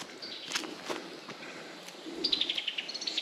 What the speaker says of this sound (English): If this bird don't freaking maul me.